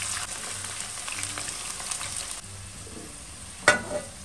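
Potato slices frying in oil, a soft steady sizzle with faint scraping as pieces are turned, ending in one sharp clink of a utensil against the pan, fairly quiet and close.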